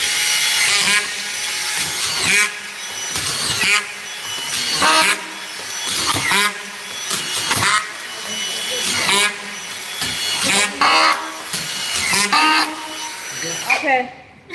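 A power tool drives screws into wood in a run of repeated whirring bursts with short pauses between, close and loud, while voices talk over it.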